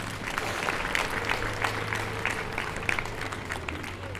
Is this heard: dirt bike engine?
no